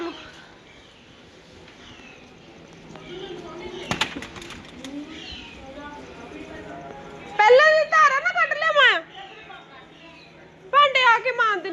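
Birds call outdoors as clouds gather before rain, with bursts of chirping and warbling, mostly in two loud clusters, over steady background noise while people talk nearby.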